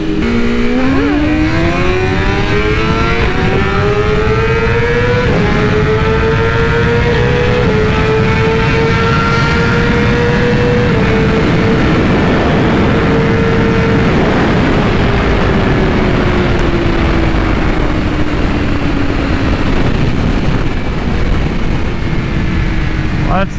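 A BMW M1000RR superbike, strapped down, accelerates hard through the gears during a Dragy test, a loud, near engine wail climbing in pitch with shift breaks before leveling and falling off.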